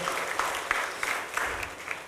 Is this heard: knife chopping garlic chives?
no